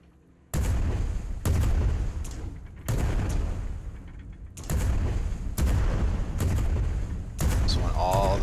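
Cannon fire in the airship battle video game Worlds Adrift: a series of about seven heavy booming shots at an uneven rhythm, loud and close, each with a rumbling tail.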